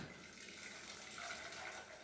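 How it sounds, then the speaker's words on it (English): Water from a kettle pours into a pan, a faint, steady running splash lasting the whole moment with no voices. "get your kettle and you pour it into the pan"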